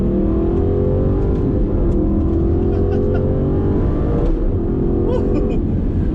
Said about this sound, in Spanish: Ya estamos a los mandos de este Aston Martin Vantage.